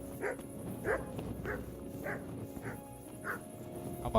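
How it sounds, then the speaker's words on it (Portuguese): A dog in the video game Kingdom Come: Deliverance barks in a steady rhythm, about seven evenly spaced barks at moderate distance over a quiet ambient background, with no talking. "Cachorro."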